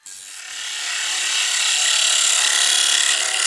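A wooden bowl spinning on a wood lathe at 700 RPM as a turning tool cuts it, producing a loud, continuous, rising hiss of shaving wood that holds steady without speech.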